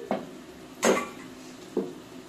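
Three separate scraping knocks of a spoon stirring hilsa fish in mustard sauce simmering inside a pot, close and fairly clear, with quiet pauses between them.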